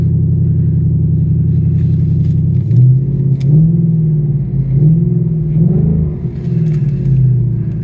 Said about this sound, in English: that 5-liter V8, man, sounds absolutely intoxicating